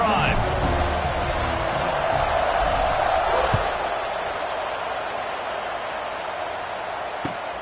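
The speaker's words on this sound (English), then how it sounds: "this crowd is feeling themselves after that last drive" A football stadium crowd in a video game roars and cheers after a touchdown, a dense, steady wall of crowd noise that gradually eases, with a commentator's voice running over it.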